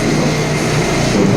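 NYC subway train rumbling steadily during a ride, a continuous loud low roar of wheels and carriage with no talk.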